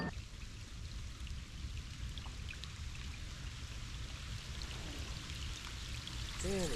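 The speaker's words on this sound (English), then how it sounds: "Looks like the rain's coming in waves." Rain falls steadily beside a tiny creek, a dense, even wash of drops that holds at a constant level throughout, with no voices.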